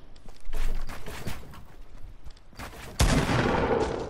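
Shotgun fire in the Fortnite video game, a sharp burst near the start and a louder, close blast around the three-second mark, trailing into noisy in-game ambience with no talk.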